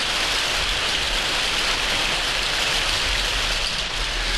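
Heavy rain pours down steadily and loudly, a dense unbroken hiss of downpour with no voices present.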